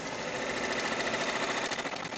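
Embroidery machine stitching a design, a dense continuous mechanical whir with a fast rapid-fire needle rhythm, steady and close throughout with no voices.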